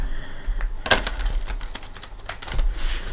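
A deck of tarot cards is shuffled close by, giving quick papery riffling and tapping bursts with a sharp flurry near the start and another toward the end.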